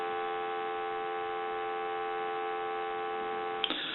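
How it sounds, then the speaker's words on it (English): A steady, unbroken dial tone from a Bell South single-slot payphone hums evenly for several seconds, ending with a brief click. "Give you some dial tone."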